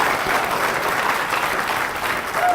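An audience applauds the builders of a reflection park in a steady, sustained round of clapping, dense and even throughout, with no voices heard above it.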